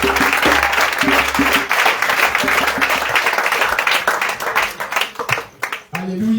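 Church congregation applauding in rhythmic bursts of clapping, loud and close, with voices calling out over the hands and a short pause near the end.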